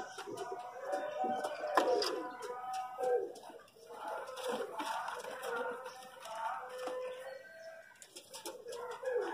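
Pigeons make soft, repeated calls and cooing notes, steady and fairly close, with other birds chattering faintly in the background.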